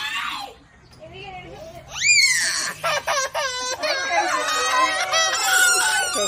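People yell and scream excitedly at a gender reveal, shrill overlapping cries bursting out loud after a short quiet moment and continuing in a sustained chorus of raised voices.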